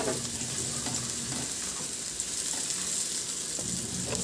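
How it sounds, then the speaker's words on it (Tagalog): Garlic, then ginger, sautéing in a reduced amount of oil in a hot pan, giving a steady, close sizzle with soft crackles and faint utensil scrapes throughout, no voices. "Sa disim na kawali, binawasan ko lang yung mantika, igisa ko na yung bawang."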